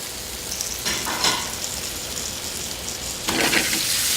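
Fresh garden tomatoes and fennel blister and sizzle in a hot pan in a restaurant kitchen, a close, steady crackle with two louder bursts as the food is stirred or flipped, no talk.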